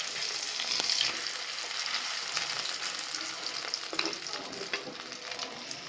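Egg pitha, a spicy egg fritter, fries in hot oil with a steady, bright, crackling sizzle heard close up, with only faint stirring touches and no voices.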